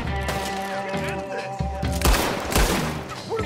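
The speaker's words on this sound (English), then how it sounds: "What are those guns they have?" A gunfight in Red Dead Redemption 2 gives sharp booming gunshots, a few heavy blasts close together, under a layer of tonal music and game sound.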